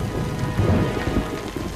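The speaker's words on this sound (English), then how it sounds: "It's raining outside." Steady, dense rainfall in the video game Batman: Arkham Asylum hisses without pause, with a low rumbling undertone beneath it.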